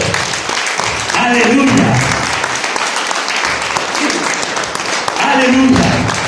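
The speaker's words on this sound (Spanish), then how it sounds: "Dale un aplauso a Cristo." A church congregation claps and cheers for Christ, a loud sustained crowd applause swelling in two waves while a voice calls out over it.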